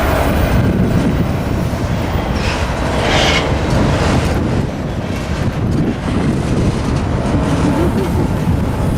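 Freight train rolling past at a Fullerton rail yard, a steady loud rumble of cars with rail clatter and wind buffeting the microphone throughout, no voices.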